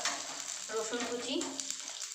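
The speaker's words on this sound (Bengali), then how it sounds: "এর মধ্যে আমি এখন ঘিয়ের মধ্যে অল্প সাদা জিরে দিয়ে দেবো, কিছুটা রসুন কুচি" Cumin seeds and chopped garlic sizzle softly in hot ghee, a faint, even crackle with a brief louder flare partway through.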